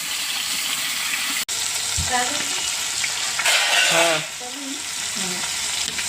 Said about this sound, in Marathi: आता मी याला छान पैकी मस्तपैकी असं गरम गरम तेलात सोडणार आहे